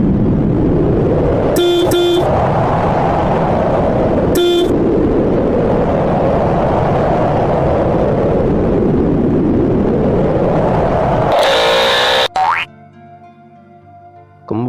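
A car horn honks twice over a loud, wavering engine drone, followed by a burst of tonal noise and a sudden drop to quieter sound near the end.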